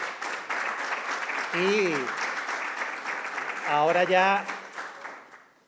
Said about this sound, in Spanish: Yo pediría un fuerte aplauso para los ganadores de esa foto.